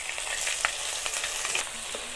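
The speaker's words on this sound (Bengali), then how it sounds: "মাছ ভাজার তেলেতেই আমি ফোড়ন এখানে দিচ্ছি, যেটা ফোড়ন হিসাবে সর্ষে বাটা, কাঁচা লঙ্কা বাটা" Ground mustard and green chilli paste sizzles and crackles steadily in leftover fish-frying oil while being stirred, with a few sharper pops over the constant hiss.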